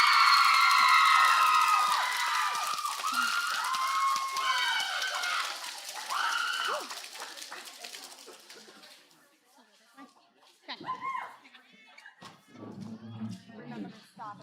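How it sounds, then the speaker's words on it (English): A crowd at an outdoor graduation or decision-day ceremony cheers and claps, loud at first and then fading over several seconds, with children's shouts mixed in and scattered voices afterward. "Let's give them all one last round of applause."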